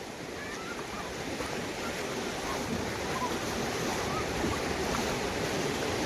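Constant roar of sea surf washing onto a shore, broad and steady, with a faint breeze mixed in and no voices.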